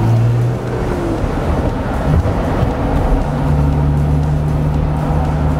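A Mercedes 300 SL replica drives through Paris streets, its engine a steady, loud close drone with shifting pitch, and traffic noise runs beneath it.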